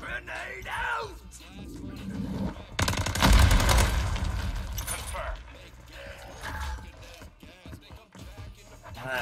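Video game gunfire during a live-streamed shooter match, a dense burst of rapid automatic fire in the middle with scattered shots around it, heard under and between excited talking players.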